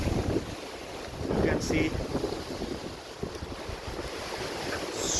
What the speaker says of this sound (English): You can see it's heavy winds.